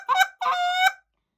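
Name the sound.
goose call train notes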